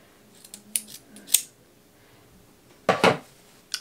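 Scissors snip through knotless box braids in a few sharp, close cuts, a scattered pair early on and a louder double snip later, with quiet pauses between.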